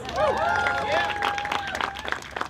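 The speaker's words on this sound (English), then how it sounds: "give her a round of applause" Crowd applauding and cheering at a university student hunger strike gathering for Gaza, a dense steady wash of clapping with whoops and voices rising over it throughout.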